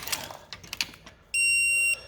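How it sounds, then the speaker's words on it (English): A Harbor Freight Quinn digital angle torque wrench gives a steady electronic beep for about half a second after some light clicking and handling noises, loud and close. "At least it beeps at you to tell you"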